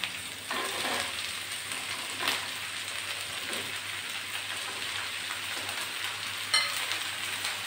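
Chopped potatoes fry in a pan with a steady, rain-like hiss and sizzle, broken by a few louder crackles and pops, close and even throughout.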